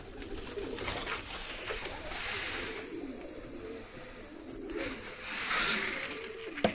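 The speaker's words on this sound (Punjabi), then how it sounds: "ਵੱਡੇ ਕਬੂਤਰ ਨੇ ਸਾਰੇ ਇੱਕ ਕਬੂਤਰੀ ਐ ਲੜਦੇ ਹੀ ਬਹੁਤ ਨੇ" Several large pigeons coo repeatedly at close range, soft throaty calls rising and falling over a steady background hum.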